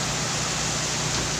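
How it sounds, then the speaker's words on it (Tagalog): Heavy rain pours down steadily at a worksite, a dense, constant roaring hiss filling the whole clip with no break or letup. "Malakas ng ulan, hindi ko na makita yung trabahuin ko"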